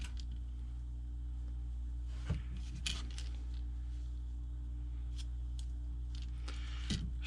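Scissors snipping small pieces of tape for a fishing lure stencil, a few brief, close crisp cuts over a low steady background hum.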